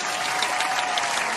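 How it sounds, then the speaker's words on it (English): Brief burst of audience applause at a monster-collecting game event, dense steady clapping from a crowd with no speech over it. "That deserves a round of applause."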